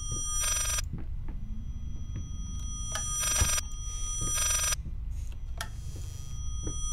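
Old telephone bell in the horror game Layers of Fear rings in repeated loud bursts with short pauses between, over a low rumbling ambient drone.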